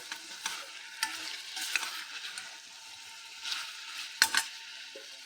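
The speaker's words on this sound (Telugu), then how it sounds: "కారం, ఉప్పు అన్నీ పట్టేటట్టు ఒక 2-3 నిమిషాలు ఫ్రై చేసుకోవాలి" Spices such as chilli powder and salt frying and being stirred in a pan, a steady soft sizzle with a few sharper scraping stirs, close and alone.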